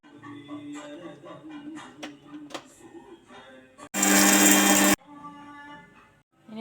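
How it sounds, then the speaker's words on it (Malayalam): Mixer grinder jar grinding roasted cumin seeds in one short, loud, dense burst of about a second, set between quieter kitchen clatter and tapping. "ഇതിങ്ങനെ വറുത്തെടുത്ത് ഇനി നമുക്കൊരു മിക്സിയുടെ ജാറിലോട്ട് മാറ്റി പൊടിച്ചെടുക്കാം"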